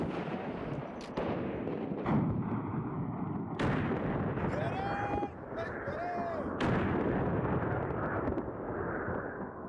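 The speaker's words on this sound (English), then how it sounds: "Musket and cannon fire echoed across the lake" Heavy booming gunfire and cannon blasts rumble over a dramatic backdrop, with a few sharp reports standing out amid sustained battle noise.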